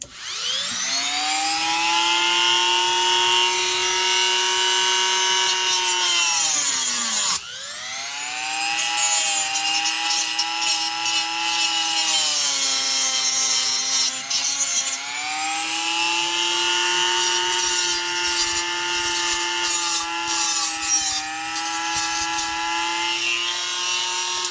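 Metal file rasping a burr off the rear shroud of a McCulloch Super Pro 125 chainsaw, a steady, close, harsh scraping in long continuous strokes with one brief break, no voices.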